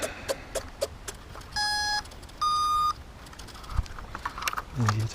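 A Guillow's Messerschmitt BF109 RC model plane conversion beeps as it powers up, giving two steady electronic tones of about a second each amid handling clicks and rustling.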